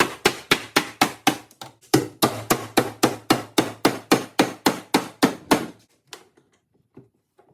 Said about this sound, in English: Then fold it over with a hammer.